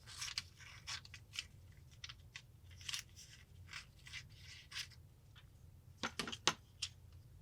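Excess material is cut away from a box, making a series of quiet, close snips and crunching cuts in an uneven rhythm over a low background hum, with a tighter cluster of cuts near the end.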